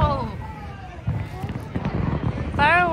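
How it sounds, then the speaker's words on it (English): Fireworks finale bursting and crackling amid excited voices and cheering, with several sharp pops and rumbles mixed under the crowd. "Fireworks!"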